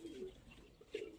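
Giribaz pigeons coo in a loft, two soft low coos heard close but faint, with a quiet pause between them and no talking.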